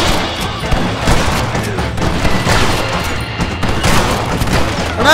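Intense gunfire in Red Dead Redemption, loud and continuous, with dense overlapping shots and booming blasts filling the whole stretch with no pause.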